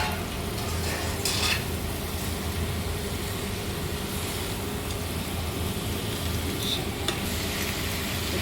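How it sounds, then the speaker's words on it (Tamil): Crushed crab fries in a pan for crab gravy with a steady, loud sizzle and occasional stirring scrapes, no voices. "இப்போ இடித்து வச்சுருக்கேன் நண்டு கொட்டிடலாம்."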